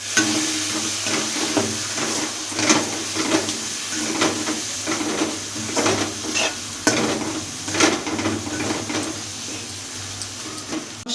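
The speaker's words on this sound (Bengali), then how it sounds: "গুঁড়ো মশলা দিয়ে ভালো করে মশলাটা আবার আর একটু কষিয়ে নেব।" Ground spices and cinnamon frying in a pan, a loud, steady sizzle broken by repeated scraping and stirring strokes at an even rhythm, close up and without voices.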